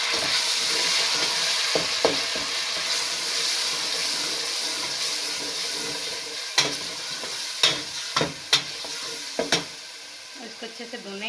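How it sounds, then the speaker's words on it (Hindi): Tomato paste and spices for chana dal frying in a pan, a steady close hiss and sizzle, joined later by a run of sharp spoon knocks and scrapes against the pan. "इसको अच्छे से भूनेंगे।"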